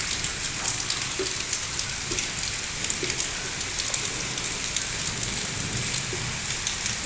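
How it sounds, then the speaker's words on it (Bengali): Heavy Baishakh downpour in Shailkupa, heard from a house balcony: a thick, even roar of rain drumming on surfaces, with scattered louder drips against the constant wash. "অনেক অনেক অনেক বৃষ্টি হচ্ছে,"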